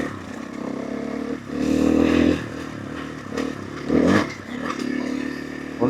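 A motorcycle ride picked up by a DJI Action 5 Pro helmet microphone: the engine revs up and drops back in several surges, with clattering wind buffeting and rough scraping noise in between and no speech.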